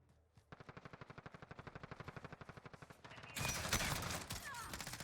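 Rapid automatic gunfire in Call of Duty: Modern Warfare, a fast even burst of shots building in loudness, followed by a louder, denser stretch of shooting and impacts close up.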